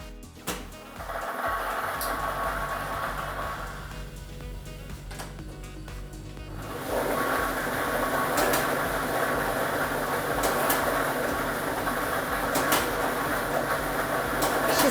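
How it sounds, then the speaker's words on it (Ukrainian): A Ukrainian state lottery drawing machine, lottery machine B loaded with ball set number 2, starting up: a steady mechanical whir with rattling balls that swells and grows louder after a few seconds, continuing without speech. "І ми вмикаємо лототрон"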